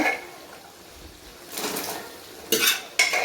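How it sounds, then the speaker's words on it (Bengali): Peas being stirred into mutton ghugni in a metal pot, starting with a quiet low sizzle, then louder scraping from about 1.5 seconds and two sharp, close clanks of a spoon against the pot near the end. "মটরগুলো দেওয়ার পর ভালো করে নাড়াচাড়া করে"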